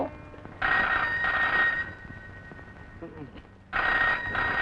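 An old-style telephone bell rings in two long bursts separated by a pause, loud and close, with faint voices heard between the rings.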